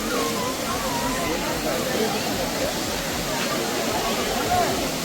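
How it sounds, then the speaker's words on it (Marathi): Waterfall near Ekvira temple, a steady broadband rush of falling water holding constant level throughout, with faint crowd murmur beneath. "या ठिकाणी पाहू शकता सुंदर असा धबधबा, एकदम डोळ्याचे पारणे फिरणारा असा सुंदर धबधबा."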